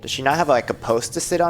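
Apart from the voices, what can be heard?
No everyday noise stands out behind the speech.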